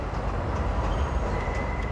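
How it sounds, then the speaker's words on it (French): Steady rumbling roar of London trains, a continuous dense wash of rail noise with a faint high squeal near the end, no voices. "Le vacarme des trains londoniens"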